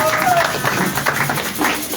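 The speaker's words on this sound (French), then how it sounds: "Quelqu'un doit applaudir pour la gloire de Dieu." A church congregation applauding, a dense continuous patter of many hands clapping at close range, with voices calling out over it.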